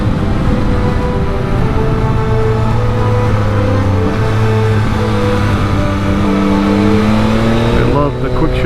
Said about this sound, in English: I love the quick shifter on this motorcycle. Up and down.